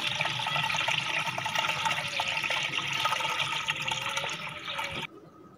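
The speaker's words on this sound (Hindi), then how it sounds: "इसके बाद एक दफ़ा छलनी से छान लें" Pomegranate juice pours through a sieve, a steady close rush of trickling liquid that stops abruptly near the end.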